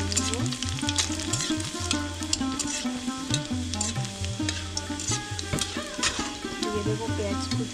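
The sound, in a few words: chopped garlic frying in hot oil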